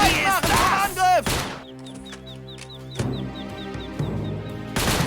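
Gunfire in the World War II strategy game Faces of War during a basic training mission, with loud bursts of shots at the start and again at the end, mixed with shouted voices and game sound effects.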